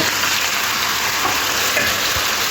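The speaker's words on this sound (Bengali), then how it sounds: "ভালো করে সবজির সাথে সর্ষে আর পোস্তটা মিশিয়ে নিতে হবে" Vegetables are stirred with mustard and poppy seed in a hot pan, giving a steady, close sizzle with soft scraping throughout.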